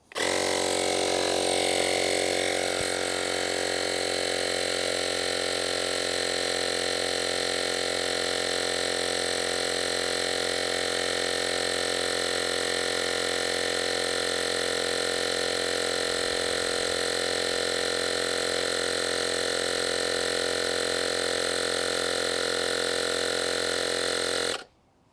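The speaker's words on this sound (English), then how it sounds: "And you can see how the pump just turns itself off when it's reached the desired pressure" A cordless tire pump inflating a car tire, a loud steady motor buzz with a rattling drone that runs unbroken for about 25 seconds, then cuts off abruptly at the end.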